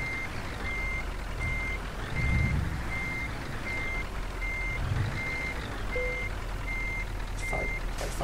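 Steady evenly spaced reversing beeps from a truck backing into a parking spot in Euro Truck Simulator 2, sounding over a continuous low engine rumble with a couple of brief air-brake hisses near the end.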